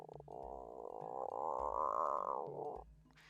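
A single long, deep frog croak with a buzzing, rippling tone, swelling slightly in the middle and then cutting off, close and clear with nothing else around it.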